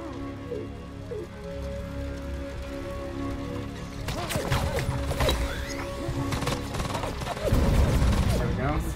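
Sustained automatic gunfire in the Deathgarden video game crackles in dense rattling bursts that grow louder partway through, with a player talking over the shooting.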